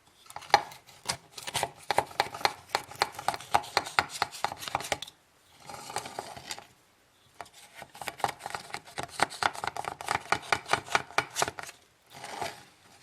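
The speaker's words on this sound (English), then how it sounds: "I'm going to take a sharp knife and go around the perimeter to loosen the crust." A sharp knife runs around the crust of a chilled cheesecake, giving a close, rhythmic series of scraping, cutting strokes. It stops for a short quieter pause midway, then resumes, with no voices.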